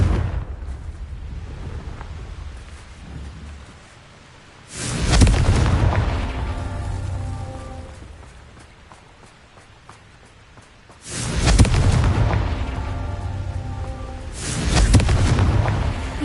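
Fiery Confringo spell blasts in Hogwarts Legacy land as three loud booming explosions, each a sudden roar that rumbles and fades over a couple of seconds, over a low game ambience.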